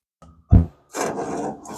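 Sheet metal for a Chevy Nova's trunk gutters is bent by hand in a workshop: a short scraping creak, a sharp low thump, then a sustained grinding rub of metal being forced, close and fairly loud.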